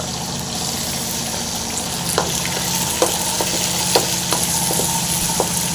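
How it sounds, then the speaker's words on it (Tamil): Garlic and ginger fry in oil for a curry leaf pickle, giving a steady, fairly loud sizzle broken by several sharp clinks of a spoon stirring against the pan. "பூண்டு இஞ்சி போட்டுடலாங்க"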